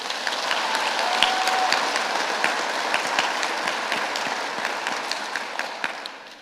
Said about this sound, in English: Let's give all of these students another round of applause.